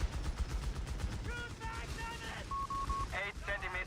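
Bursts of machine gun fire from the Company of Heroes video game, short rattling volleys mixed with other battle sounds and electronic game tones, all fairly quiet.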